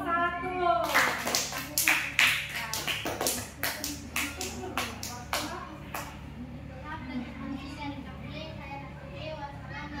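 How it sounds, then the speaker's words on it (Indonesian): A classroom group claps for a student team after their presentation: a short burst of sharp, scattered hand claps under ongoing talk, tapering into a few isolated claps. "Tepuk tangan dong untuk kelompok"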